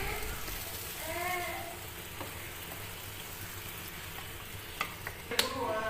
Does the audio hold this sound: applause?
no